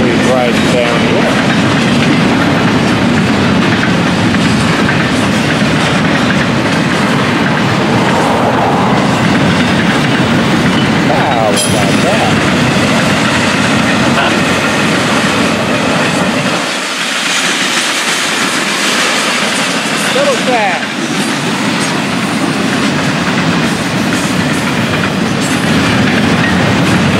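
A freight train on the FEC line, with UPS trailers riding on its cars, rolls past close by in a loud, continuous roar of clattering wheels that eases briefly midway, with some talk underneath.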